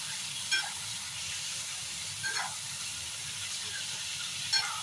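A quiet, steady sizzle of potatoes and elephant foot yam frying in oil continues throughout, with a few faint clinks and scrapes now and then.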